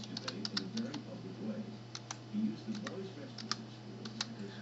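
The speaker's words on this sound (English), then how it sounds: "Now just type in the password for the new Gmail account, then press OK." Typing on a computer keyboard, a handful of light clicky keystrokes in short irregular bursts under a steady low hum, with a person talking over them.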